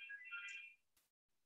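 A telephone rings faintly in the background with a short electronic ringtone burst, then cuts off, leaving near silence.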